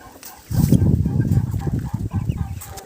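Week-old chicks and older young chickens cluck and peep close by in a farmyard pen, a busy, continuous mix of soft clucks and chirps without talking.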